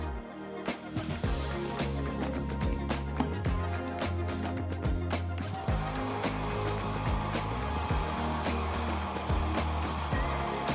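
A hair dryer set to low mode hums and blows steadily while powered by a Bluetti AC2A portable power station, a continuous close whir that shifts in tone halfway through, with light clicks and handling noise.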